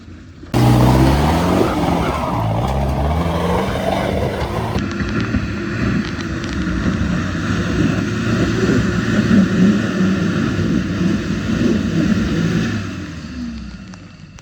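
An off-road car's engine rumbles steadily with a rough, low drone that swells and fades slightly as it rolls downhill, close to the microphone, with wind buffeting and no talking.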